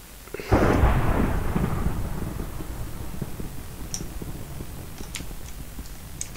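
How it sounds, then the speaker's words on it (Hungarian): A Minecraft thunderstorm: a loud thunder crack bursts early and rolls away into a long fading rumble, with steady rain hiss and a few faint ticks afterward. "Erős vihar tombol itt a játékban."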